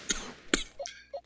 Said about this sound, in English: Sometimes when I laugh, I cough and I hate it.